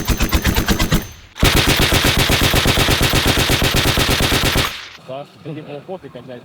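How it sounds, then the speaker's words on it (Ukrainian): A belt-fed machine gun fires on a Ukrainian reconnaissance training range: one short burst, a brief pause, then a long sustained burst of rapid, loud, close shots, followed by voices talking as the firing stops. "Кулемет готовий до стрільби. Ще длинніше."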